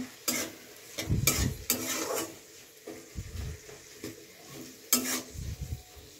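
Capsicum and onion fry in a wok, giving a soft, continuous sizzle. A spatula scrapes and stirs in irregular close bursts over it, with a few sharp metallic strokes.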